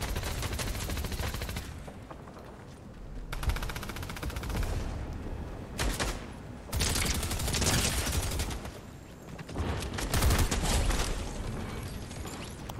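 Bursts of submachine gun fire in Fortnite, rapid rattling volleys loud and close, broken by short pauses between strings of shots.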